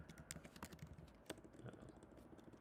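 Typing on a computer keyboard, a run of soft, quick, uneven key clicks with a few sharper taps, fairly faint and close, with no voices.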